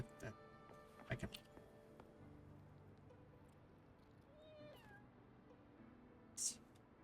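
Cats meow in the video game Wuthering Waves, a few short, faint mews heard near the middle of the clip, set against game music and small clicking effects.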